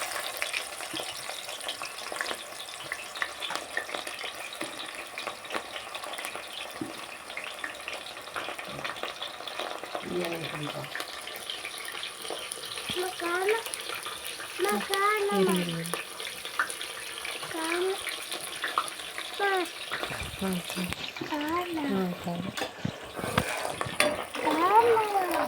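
Onions hitting hot oil with popped mustard seeds, a continuous crackling sizzle with occasional stirring and scraping, close by, with a voice talking intermittently over it.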